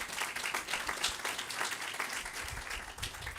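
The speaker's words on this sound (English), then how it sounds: "Give her a round of applause." Audience applause at a university ribbon-cutting ceremony, steady dense clapping from a crowd honoring the chancellor, moderately quiet and sustained throughout without pauses.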